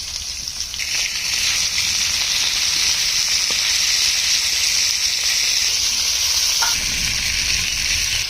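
Rohu fish frying in hot oil in a frying pan, a loud, steady crackling sizzle that holds throughout, with a few faint clinks near the end.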